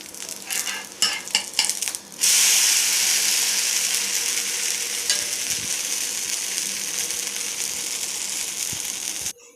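Uttapam batter sizzles on a hot griddle in a home kitchen as a steady, loud frying hiss that swells after a few scraping taps and holds to the end, with no talking.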